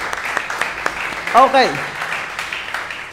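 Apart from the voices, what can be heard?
church congregation applause for Jesus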